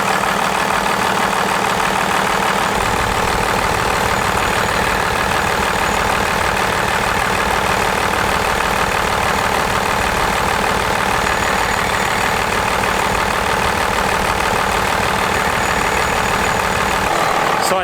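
A Cummins diesel truck engine idles steadily, a loud continuous rumble with a slight knocking texture that holds evenly from start to finish.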